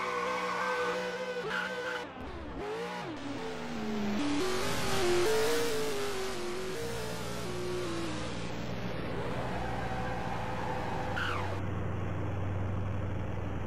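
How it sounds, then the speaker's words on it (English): A car in Roblox Driving Empire revs its engine with rising and falling pitch, then skids with a sustained tire screech while the motor keeps droning up close. "I guess that's a skid."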